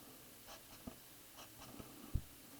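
Faint, sparse taps and scratches of someone writing out complex-plane math on a board or paper, a few soft strokes spread over a quiet background with no talking.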